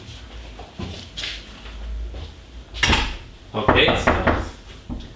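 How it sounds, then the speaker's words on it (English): A door swung shut indoors, giving a couple of short knocking thuds and a brief rattle, with people talking around it. "I close the door."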